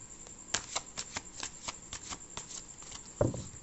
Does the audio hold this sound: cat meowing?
no